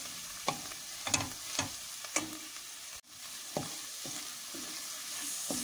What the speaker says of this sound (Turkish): Şöyle salçamızın kokusu gidene kadar salçamızı da güzelce kavuruyoruz arkadaşlar soğanla beraber.